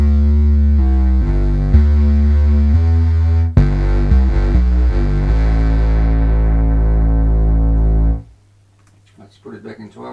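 Korg MS-20 synthesizer playing through its filter in 6 dB mode, a thick, buzzy note sequence that opens bright and then grows darker. It cuts off near the end, and brief faint speech follows.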